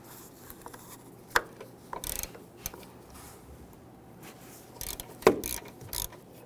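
Ratchet with a 13 mm socket clicking on bolts during an engine mount replacement on a 2011-2019 Ford Explorer, a few short sharp clicks and clanks scattered across a quiet workshop background.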